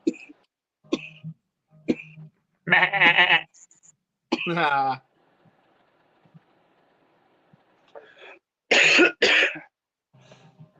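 A goat bleats in short, loud, wavering cries amid sharp coughing or throat-clearing sounds and scattered quiet gaps, all close and fairly dry.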